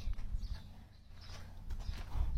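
A pony walks on firm ground, its hooves giving low, irregular clip-clop thuds that sound close and fairly soft against a muffled background.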